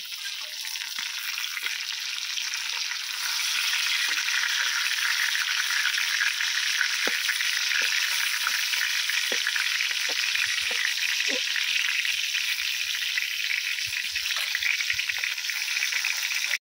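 Pointed gourd (potol) slices fry in hot oil for a doi potol dish, giving a steady, loud, close sizzle with occasional soft clicks of stirring throughout.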